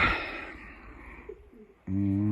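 A pigeon coos once near the end, a low rounded warble after a quieter stretch of faint background noise.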